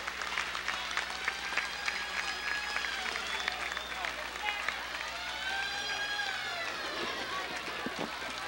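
Crowd applause along the route of a Jeep parade at a 20 July celebration, a continuous outdoor clapping wash mixed with crowd noise, whistles and voices throughout.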